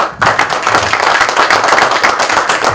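Loud, close clapping from a small audience at a medical lecture on early neonatal infection, starting abruptly and continuing briskly at a steady level without speech.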